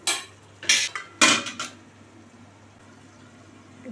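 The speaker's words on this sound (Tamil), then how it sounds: "இப்போ மூடி வச்சிடலாம்" A lid set onto a pot of chicken curry cooking with curd, tomato and onion, with a few bright metallic clanks and rattles in quick succession, then a quiet low simmer.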